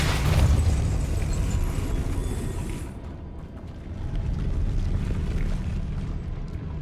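A Depulso spell impact in the video game Hogwarts Legacy lands as a loud, rumbling burst, then a deep roar that dips briefly and swells again before trailing off.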